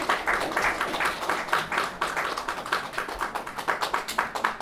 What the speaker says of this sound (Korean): 우리 마음을 담아서 감사의 박수 보내주시기 바랍니다